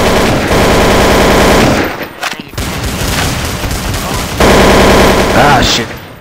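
Loud, close gunfire from a scout sniper rifle in Counter-Strike: Source, with dense booming shots and sharp cracks in bursts, separated by a short lull with scattered game noise.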